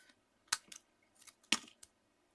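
Scissors snip through a piece of card, close and crisp: two main cuts about a second apart, each followed by smaller clicks of the blades, in an otherwise quiet room.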